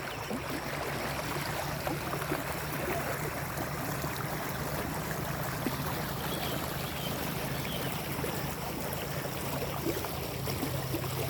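Rainwater from a flooded farm field drains away through an improvised setup, making a steady, soft rushing and trickling sound that continues evenly throughout, with no voices.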